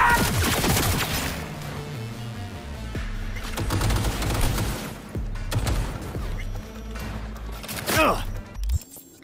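Rapid bursts of gunfire from the video game Cyberpunk 2077 Phantom Liberty, loud sustained volleys with sharp shots and crashes over a low game soundtrack, with excited talk layered on top.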